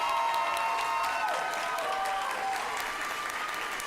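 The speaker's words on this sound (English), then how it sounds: "Please join me in giving this group of phenomenal servant leaders a round of applause" A student leadership awards audience applauds steadily, a dense wash of many hands clapping with a few faint cheers mixed in, sustained at an even level for the whole stretch without talk.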